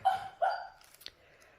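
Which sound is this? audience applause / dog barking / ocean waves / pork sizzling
dog barking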